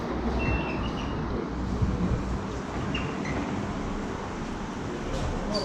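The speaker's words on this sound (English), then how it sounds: "try to record getting onto the trains the first time" London Underground train at a station, heard as a steady, loud rumble of rolling wagons and broad station noise with no pauses, nearby and filling the whole stretch.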